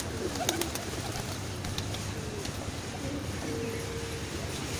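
Pigeons of many kinds kept at a grandfather's house coo softly and intermittently, half-buried in a steady wash of background noise.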